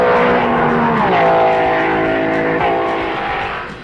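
Vintage Grand Prix racing cars roar past loudly in a continuous engine blast, the pitch sliding downward as they speed away, with more cars following close behind.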